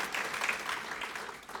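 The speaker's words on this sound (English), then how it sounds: "I'd also like to take a few moments just again to give applause to Aja and also to Daryl for their work" An audience claps steadily at a civic awards event for a league of women voters, a dense, even wash of applause that is fairly soft and distant.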